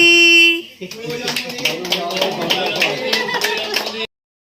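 Hands clapping at a child's sixth birthday party at home, a crowd of guests applauding in a steady, lively patter for several seconds after a held musical tone, then stopping abruptly.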